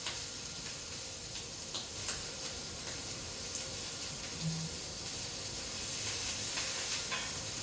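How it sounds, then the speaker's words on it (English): Shrimp crusted with Urfa chili and sumac sizzling on a grill, a steady crackling hiss with small pops and ticks throughout. "we're going to grill this shrimp until it turns pink and curls and is just done"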